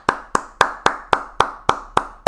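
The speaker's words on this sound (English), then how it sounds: "Can we have a round of applause for Huey in chat?" A single pair of hands claps nine times in a slow, even rhythm, close and crisp, with no voices.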